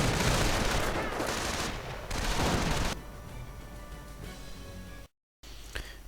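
Bursts of heavy machine gun and mortar fire crackle loudly in a strategy video game, dense and overlapping at first, then easing into a quieter stretch with scattered reports and a brief dropout near the end.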